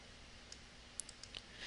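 Soft computer mouse clicks while working in Microsoft Word, a few quiet, sharp taps spaced unevenly over a faint steady hiss.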